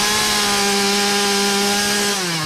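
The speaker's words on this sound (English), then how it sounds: "The blaring buzz of chainsaws could be heard all weekend long in many Appleton neighborhoods." Chainsaws cutting through storm-felled willow trees in a neighborhood after a storm, one steady loud engine drone holding pitch and then dropping lower near the end, close and alone with no talk.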